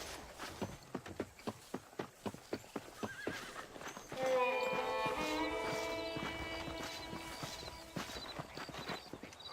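A horse in Red Dead Redemption clip-clops along at a steady, even pace for several seconds, then gives a long, loud whinny that slowly fades while faint hoofbeats carry on beneath it.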